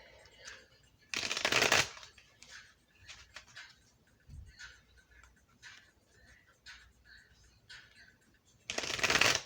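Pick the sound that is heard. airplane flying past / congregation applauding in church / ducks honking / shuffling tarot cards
shuffling tarot cards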